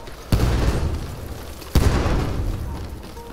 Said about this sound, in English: Grenade going out!